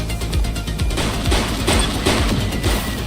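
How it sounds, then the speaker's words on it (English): Gunfire from a suspect in the police game The Precinct, a dense rapid volley of shots and impacts that runs throughout at steady loudness. "He's shooting!"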